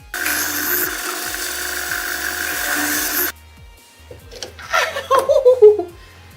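A power drill with a step drill bit bores a hole in a workpiece for a DIY Kylo Ren lightsaber, a loud continuous grinding whir for about three seconds that abruptly stops, followed by someone talking and laughing.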